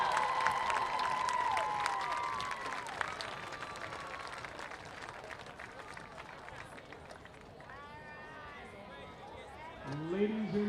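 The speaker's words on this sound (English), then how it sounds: "a warm round of applause for our 2019 homecoming king, Lucas Pieper" A high school football crowd applauds the homecoming king at a varsity game, a broad wash of clapping and cheering from the stands that swells, eases, then rises again, with voices in the mix.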